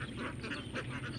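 Ducks on an egg-laying duck farm quacking together in a dense, steady chorus, many birds close by with overlapping calls and no pauses.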